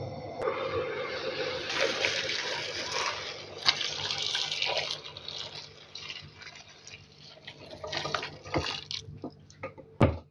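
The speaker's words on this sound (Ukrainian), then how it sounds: "кип'яченим соком знову заливаємо вишні" Boiled cherry juice is poured back over cherries being made into candied cherries, a continuous splashing liquid pour lasting about ten seconds, close up, with a few sharper clinks and drips near the end.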